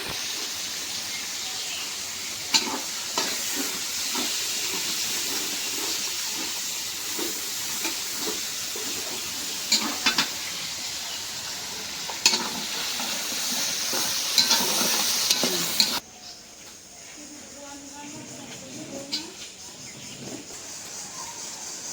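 Bay leaves, cardamom and cinnamon frying in hot oil in a home kitchen, a continuous close sizzle with scattered clicks of stirring, dropping abruptly to a quieter simmer near the end; no one talks.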